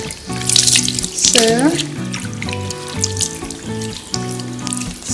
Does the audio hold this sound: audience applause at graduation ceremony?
no